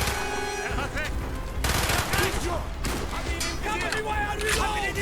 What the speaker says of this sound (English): You also get to use some World War II era weapons, like the MP40 and the PPSH.